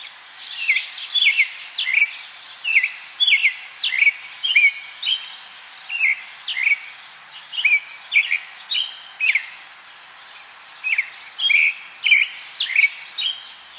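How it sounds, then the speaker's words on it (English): Several birds sing in repeated bright phrases, one voice close and loud while others sound softer and farther off, steady and unbroken. "Can you tell that one bird is much closer and some of the others are a little farther away?"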